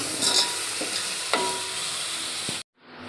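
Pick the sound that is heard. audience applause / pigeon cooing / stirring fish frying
stirring fish frying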